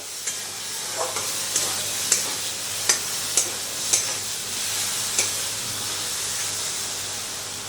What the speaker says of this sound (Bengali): আস্তে আস্তে খোসাটাকে ভেজে নিই খানিকক্ষণ ধরে